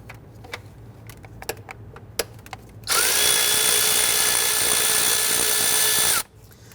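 A power tool runs steadily for about three seconds, loud and close, while a 10mm bolt is removed from a hard line bracket on a 2011-2017 Nissan Quest 3.5L V6, preceded by scattered light clicks and taps of tools.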